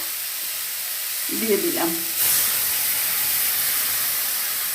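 Tamarind water hits a hot pan of pumpkin with a sudden burst of sizzle and steam hiss, which settles into a steady, fairly loud frying hiss. A brief spoken phrase comes just before the pour.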